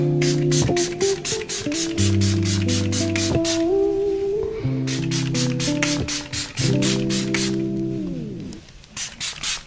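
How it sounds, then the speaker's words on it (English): Rapid bursts of a makeup setting spray nozzle hiss in quick pumping pulses, pausing twice, over a background of steady music. "Let me go ahead and spray."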